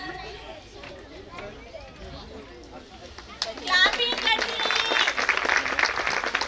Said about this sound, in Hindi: आप सबकी तालियों की आवाज आती रहनी चाहिए।